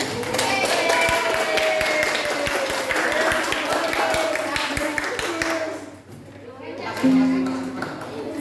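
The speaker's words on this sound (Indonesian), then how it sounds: "Sebelumnya kita tepuk tangan untuk hasil diskusi kelompok kita hari ini" A classroom of students claps together for their group discussion results, a steady rhythmic patter of hands that fades out, with a teacher's voice and some chatter over it.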